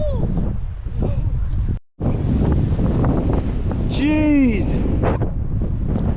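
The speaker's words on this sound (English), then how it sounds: "It is so beautiful, but at the same time it's like crispy, super windy and cold." Strong cold wind buffeting the microphone on a coastal trek toward Smugglers Bay, New Zealand, a loud continuous roar with one brief dropout, while a person speaks and exclaims over it.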